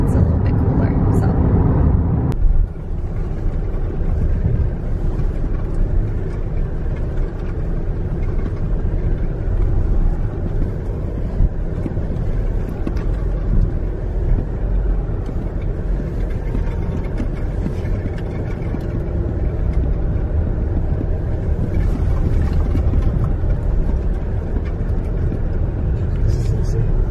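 A car drives along a road toward sand dunes on a hot day, with steady, loud engine and road rumble filling the whole stretch while people talk over it.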